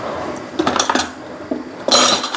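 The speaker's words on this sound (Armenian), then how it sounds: "արդեն մակարոնը կլցնեմ" Dry pasta is poured into a metal pot, a loud close clattering rush of hard pieces striking the metal in bursts, ending in a denser pour.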